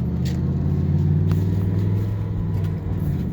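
Steady low engine rumble from a 1994-1998 Ford Mustang being driven at an even pace, the drone continuous and close with no one speaking.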